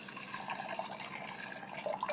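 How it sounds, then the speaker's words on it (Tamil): Water splashing and trickling steadily into a vessel, close by, with a continuous bright hiss and small bubbling sounds throughout. "தண்ணி ஊற்றிக்கலாம்."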